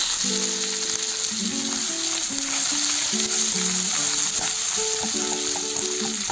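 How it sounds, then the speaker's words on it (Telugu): Chopped onion, green chilies and curry leaves sizzle in oil for a poha egg upma, a steady close hiss with occasional stirring and a faint melodic tone running underneath. "ఒక 2 నిమిషాలు ఫ్రై చేసుకున్నాము"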